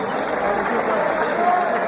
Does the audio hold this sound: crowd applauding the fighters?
yes